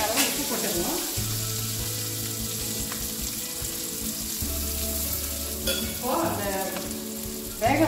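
Onion, green chilli and mint sauté in a pan for jeera rice, giving a continuous close sizzle with a few soft stirring scrapes over about eight seconds.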